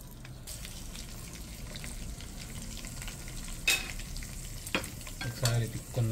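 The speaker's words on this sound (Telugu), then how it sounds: "ఆయిల్ హీట్ ఎక్కింది. సో ఇప్పుడు తిరగమాత ఇందులో వేద్దాము, తిరగమాత." Whole spices dropped into hot oil for an Andhra fish curry tempering, a continuous close sizzle that turns more crackly, with sharp ticks and a few spoon knocks against the pan toward the end.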